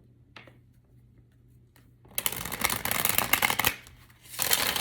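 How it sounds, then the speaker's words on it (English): A deck of tarot cards being shuffled by hand, a brief riffle followed by a longer crisp run of rapid flicking cards, then another burst after a short pause, close and clear with no talking. "Let's do one more shuffle."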